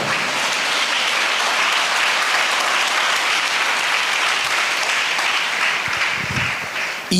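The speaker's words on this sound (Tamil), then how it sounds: "கைத்தட்டி ஆண்டவருக்கு ஸ்தோத்திரம்" Steady, dense clapping from a large church congregation, sustained and loud throughout, with a brief dip near the end.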